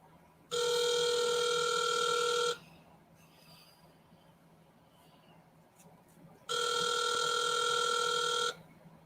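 Two long electronic telephone rings on an outgoing call, each about two seconds with a steady buzzing tone, separated by a quiet gap of several seconds.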